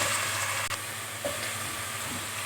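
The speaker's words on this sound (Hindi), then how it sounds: "अब मैं इसके अंदर डालूँगी प्याज। इनको मैं कलर चेंज होने तक फ्राई कर लूँगी।" Sliced onions fry in hot oil in a pan, giving a steady, close sizzle and hiss with a few faint stirring knocks, and no voices.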